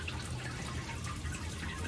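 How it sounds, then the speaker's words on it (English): Water from a cutting propagator sprays up from underneath onto plant cuttings, making a steady, close hiss and spatter of fine droplets without pause. "What it does is it shoots water up from underneath"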